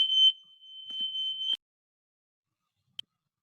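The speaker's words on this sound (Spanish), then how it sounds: "Perdón, era una alarma que estaba sonando." A smoke alarm gives a shrill, high electronic tone that sounds steadily for about a second and a half and then cuts off. One short chirp follows after a pause, set against silence.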